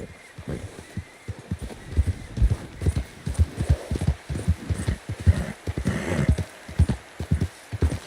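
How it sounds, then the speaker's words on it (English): Horse hooves in Red Dead Redemption 2 clip-clop in a steady, close walking rhythm on hard ground, with a faint whinny partway through and no clear talking. "Get a hold of that horse, Morgan."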